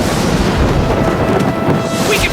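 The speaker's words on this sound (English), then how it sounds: "a sudden storm breaks" A sudden thunderstorm breaking over a battlefield: loud, dense rumbling thunder with rain-like wash, sustained and close throughout with no pause.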